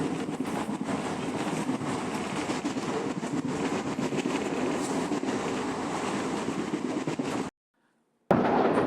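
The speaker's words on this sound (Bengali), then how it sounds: "দেখো আমাদের ট্রেন আশি নব্বই আশি নব্বই একশো এই স্পিডে ছুটে চলেছে" Down Agnibina Superfast Express racing toward Howrah at about 80 to 100 km/h, heard from inside: a loud, steady roar and rattle of wheels and carriage that cuts out briefly near the end, then returns.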